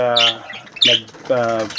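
Parakeets in a breeding cage give harsh, loud squawks in a few quick bursts, close and insistent.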